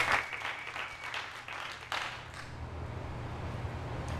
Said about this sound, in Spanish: Démosle un aplauso, por favor, a Camilo.